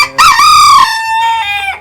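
A Japanese Grey Laser chicken on a Jaffna farm lets out one loud, close crow with a raspy start and a long, drawn-out tail.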